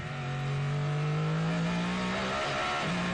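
WEC hypercar racing at the Circuit of the Americas, with a Porsche braking late: a loud, close engine howl holds a steady pitch, then drops sharply as the car slows and downshifts.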